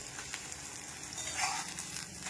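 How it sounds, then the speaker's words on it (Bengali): An egg poaching in a pan with oil, producing a soft, continuous low sizzle and faint crackle throughout, quiet and close, with no voices. "আর একটা ডিম পোচ করে নিচ্ছি"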